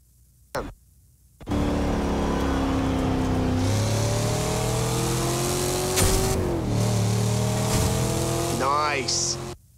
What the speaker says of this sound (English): You need to drive past these speed traps as fast as you can.